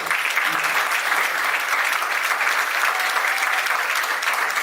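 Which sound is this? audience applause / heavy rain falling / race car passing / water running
audience applause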